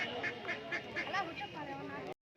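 Ducks quack repeatedly at a busy bird market in Shantipur where ducks, chickens and pigeons are sold, a steady series of nasal calls over crowd chatter and people talking close by.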